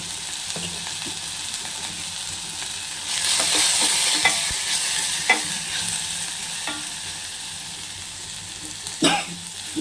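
Spices and turmeric frying in a pan for rasam, a continuous sizzle that swells louder partway through, with occasional scraping stirs and utensil taps nearby.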